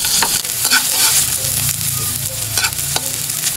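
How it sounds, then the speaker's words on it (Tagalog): Onions sauté in a little oil in a pan, with a bright sizzle under repeated sharp scrapes and taps of a spatula stirring close by, and no one talking. "nagsalang nga lang ako dito ng kawali at kaunting tamika nga para gisayin itong sibuyas"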